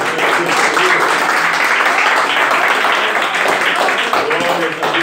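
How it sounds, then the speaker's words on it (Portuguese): A church congregation claps in praise during a worship service, dense and continuous applause filling the room at full volume for several seconds without letup. "as palmas louvam ao Senhor"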